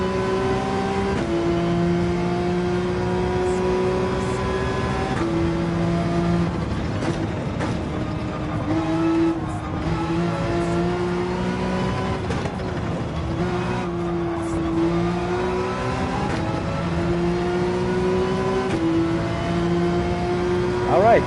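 A Porsche 911 race car's engine in Gran Turismo 7 at the Red Bull Ring drones steadily for the whole stretch, its pitch climbing and dropping repeatedly through gear changes, with a voice talking over it.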